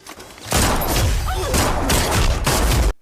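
Rapid bursts of loud gunfire crackle continuously for a few seconds, close and harsh, then cut off abruptly.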